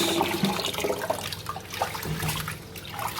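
Tap water runs steadily into a bowl as basmati rice is rinsed, a continuous splashing wash with small stirring sounds, close and moderately loud.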